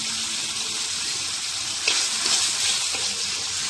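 Spices with salt and a little turmeric being stirred in a hot frying pan, a steady broad sizzle throughout with a few soft scraping strokes near the end, no voices.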